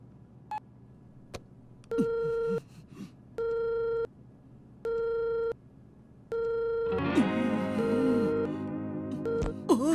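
A cartoon telephone call signal sounds in four evenly spaced, loud electronic beeps, followed by a denser ringing tone with voices chattering over it.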